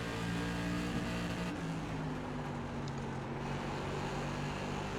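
Racing engines of SK Modified cars in iRacing at Langley drone steadily and densely in a pack, a sustained multi-layered hum with no break and no voices.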